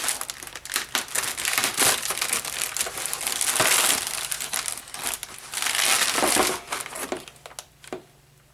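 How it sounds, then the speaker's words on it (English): Plastic bubble wrap from an RC car unboxing is crinkled and crushed up close, a dense run of crackling rustles that thins toward the end. "And this weird bubble wrap."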